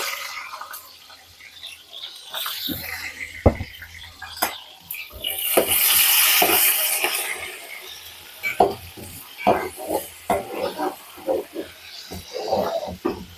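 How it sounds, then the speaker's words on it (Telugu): Ginger garlic paste sizzling in a pan for an Arabic-style bukhari rice with chicken, a swelling hiss punctuated by scraping and clinks of a spoon against the pan, with a voice talking at times. "ఇవి అయిపోగానే అల్లం వెల్లుల్లిపాయ పేస్ట్ కూడా వేసేసుకుంటున్నాను"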